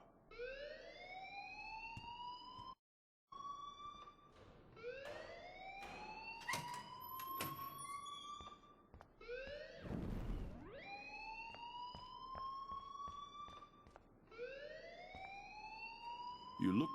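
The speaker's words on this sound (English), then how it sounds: "please turn off that alarm since that's your job" An electronic alarm blares in the video game Life is Strange, repeating rising wails in a steady cycle with a brief gap and a dull thump partway through.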